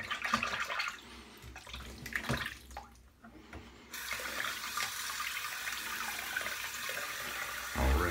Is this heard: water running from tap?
yes